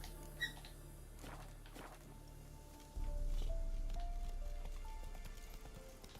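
Horse hooves clip-clop at a steady walking rhythm in The Witcher 3 Next Gen video game. The hoofbeats are close and continuous over a game ambience bed that grows louder midway. No one talks.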